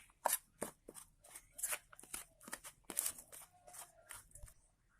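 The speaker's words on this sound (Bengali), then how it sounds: "এবার আমি এটাকে এইভাবে ফেটে নেব, খুব ভালো করে এইভাবে এটাকে ফেটে নিতে হবে।" Fish egg batter seasoned with turmeric and salt is whisked by hand in a bowl, producing quick, irregular wet clicks and taps, close and quiet, with no talk.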